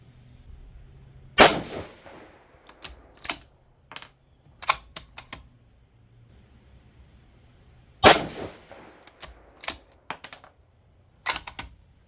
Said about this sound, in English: I'm shooting these relatively quick, trying to kind of beat the wind a little bit